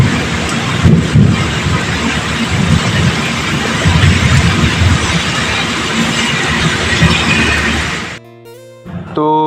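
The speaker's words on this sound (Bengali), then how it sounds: "খুব জোর হাওয়া দিচ্ছে সঙ্গে বৃষ্টিটাও ভালোই পড়ছে" Heavy rain pours down in strong, gusting wind as a loud, continuous broadband roar with rumbling low gusts, cutting off abruptly near the end into a brief quieter stretch.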